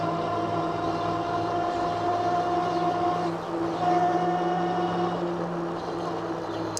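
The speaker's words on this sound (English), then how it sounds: "any noises that you hear, you know, come from the motor, but also comes from the tires" A fat-tire electric bike with 26 x 4.5 inch aggressive-tread tires runs along a road. Its motor gives a continuous whine over a steady rolling hum from the tires, close and even throughout.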